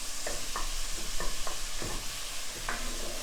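Ground beef, freshly ground on a smaller grinder blade, is broken up with a utensil while browning in a hot pan, giving a steady close sizzle with repeated scraping strokes about every half second.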